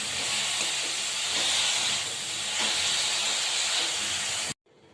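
Radish greens and grated radish sauté in a pan with a loud, continuous hissing sizzle and a few stirring scrapes, cutting off abruptly just before the end.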